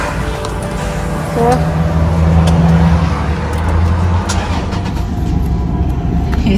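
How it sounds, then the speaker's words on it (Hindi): Car engine starting and then idling steadily, a low rumbling hum that swells slightly after ignition, with a person talking over it. "मैं गाड़ी ऑन करूं।"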